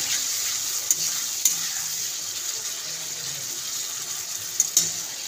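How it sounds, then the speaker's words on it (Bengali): Spices and chopped tomato with salt sizzle steadily in a pan, a constant close frying hiss with a few sharp clicks of a spoon scraping through the masala. "সব দিয়ে ভালো করে মশলাটাকে কষিয়ে নেব।"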